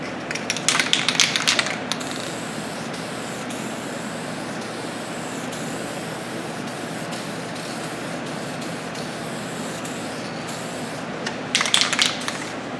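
Steady hiss of a spray gun laying a heavy final coat of paint on a drag bike fairing, continuous and close, with brief louder bursts of spray at the start and end.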